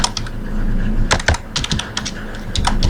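Fingers type on a computer keyboard in quick bursts of crisp key clicks and clacks, close and distinct, with short pauses between runs and no speech.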